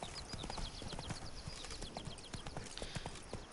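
Roach the horse galloping in Witcher 3: Blood and Wine, a steady quick clip-clop of hooves running continuously under a busy game soundscape.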